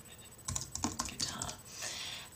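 Quick clusters of computer keyboard keystrokes tap out in short bursts, close and fairly quiet, with a faint voice underneath.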